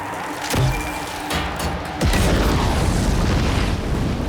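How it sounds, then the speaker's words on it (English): Grenade explosion in a dramatic narrated scene: a heavy booming blast hits and then rolls into a loud, sustained rumbling roar, with an earlier thud just before. "she hurled a grenade into the writhing mass"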